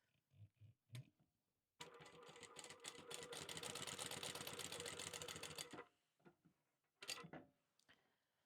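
A sewing machine stitches a bottle sling in one sustained run of about four seconds, close and even, with light handling clicks before and after.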